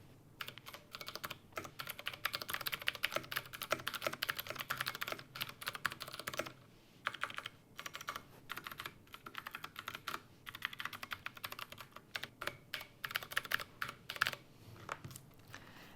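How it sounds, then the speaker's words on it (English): Steady, fast typing on a keyboard fitted with Cherry MX Blue switches, crisp clicky keystrokes in continuous bursts with a few short pauses, close and fairly quiet, no talking. "ours has Cherry MX blues, and I'm now going to do a little type test to see how it sounds"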